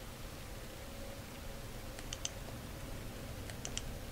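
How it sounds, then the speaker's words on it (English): A handful of small, crisp clicks from a game controller's buttons, heard in two brief clusters around the middle and end of a quiet stretch over faint steady hiss, with no talking. "the actual clicking sound of my controller"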